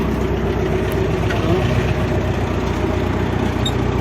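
A tractor engine runs at a steady low rumble, close and continuous, with a dense low-end drone that holds evenly throughout without revving.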